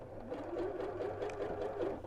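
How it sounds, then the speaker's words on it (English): A domestic sewing machine fitted with a regular zigzag foot stitches a zigzag seam joining quilt-as-you-go fabric blocks, giving a steady, continuous close whirring hum throughout, with no talk. "push that underneath the edge of my sewing machine foot, and I've just got my regular zigzag foot on the sewing machine, and then zigzag"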